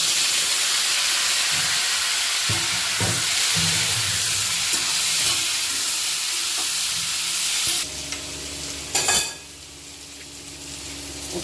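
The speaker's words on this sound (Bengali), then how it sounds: "চুই ঝালটা আমি হালকা করে ভেজে নেবো" Crushed chui jhal frying in a hot pan, a loud continuous sizzle and hiss with occasional stirring scrapes, close up, briefly flaring near the end.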